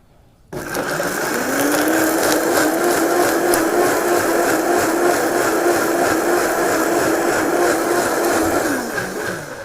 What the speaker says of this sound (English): Just enough to get it to blend in the blender.